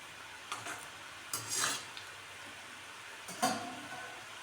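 Rice flour and moong dal rings frying in foaming hot oil, with soft sizzling that swells in a few short bursts and then settles between them.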